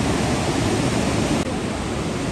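Fast-flowing water of the River Swat rushes continuously, a loud, dense, steady roar of churning current heard close and alone with no voices.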